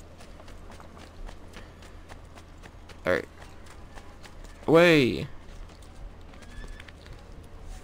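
Horse hooves clip-clop in a steady rapid patter through Assassin's Creed 2, with a loud drawn-out neigh partway through and a shorter whinny before it, while someone speaks briefly over the game sound.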